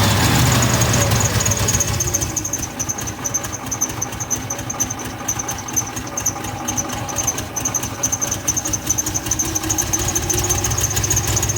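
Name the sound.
Ford F150 300 straight six 4.9 engine rough idling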